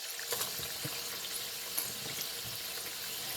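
Taco empanadillas (taco dumplings) fry in hot oil over a high flame, giving a constant bright crackling sizzle with small pops, close and even, with no talk.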